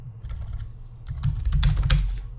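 Quick keystrokes on a computer keyboard while code is written for a Django web app, a close, fairly quiet run of clicks that picks up pace and gets busier toward the end.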